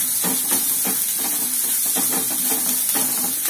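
Spices such as turmeric, red chilli powder and coriander powder being stirred and sautéed in a pan for chicken masala, a steady close sizzle and hiss with repeated scraping strokes of the spoon, no voices.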